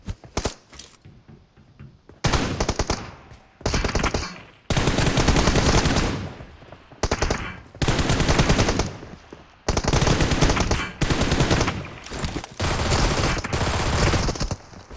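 Automatic gunfire from PUBG Mobile rattles loudly in long, rapid bursts with short pauses between them, dominating the mix.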